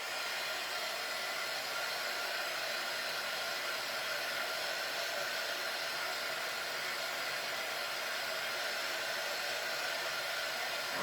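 A hair dryer blows a steady, even hiss over a freshly painted surface, drying the coat, constant and unbroken throughout at moderate volume.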